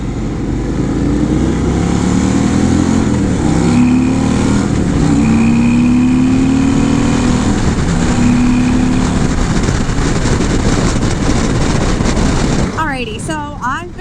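A 2023 Harley-Davidson CVO motorcycle with a 121 cubic inch engine pulls hard under acceleration, a loud, steady engine roar with rising tones and heavy wind rush throughout, fading out at the end.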